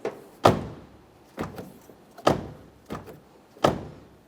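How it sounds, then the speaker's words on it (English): A 2003-2008 Toyota Corolla front door shuts and reopens several times: sharp thunks and latch clicks, each followed by a softer rattle, close by with quiet pauses between. "let's go ahead and shut the door and reopen it"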